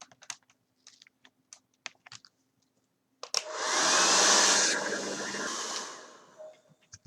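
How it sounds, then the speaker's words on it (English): A hair dryer switches on abruptly and blows steadily for several seconds, drying a sheet of craft paper for a treasure map, preceded by a series of light tapping clicks. "take your hairdryer and dry it off"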